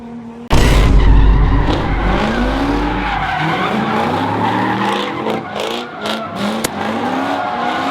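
A car drifts with the handbrake at a street takeover, its tires skidding and squealing loudly right after a sudden start, with the engine roaring and revving throughout amid crowd noise.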